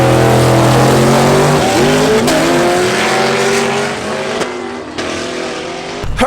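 A diesel drag race vehicle accelerates hard with a loud engine roar that climbs in pitch through the gears and then fades slightly as it pulls away, ending with sharp clicks.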